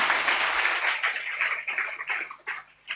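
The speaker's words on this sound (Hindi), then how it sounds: "हम तालियां बजाकर उनका स्वागत करेंगे" A congregation at a prayer meeting claps to welcome first-time visitors, a dense burst of many hands that thins into scattered, uneven claps before fading out.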